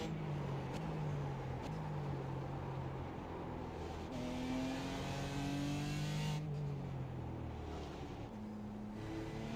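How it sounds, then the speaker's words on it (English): A race car engine in a racing video game, running an IMSA challenge at Mid-Ohio, drones loud and steady near the rev limiter in third gear, its pitch wavering slightly throughout, with no talking. "I'm just barely hitting the rev limiter in third"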